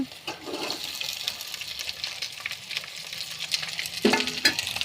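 Onions frying in an iron kadai, a continuous close hiss and sizzle with stirring scrapes, swelling louder near the end as more moisture hits the hot oil.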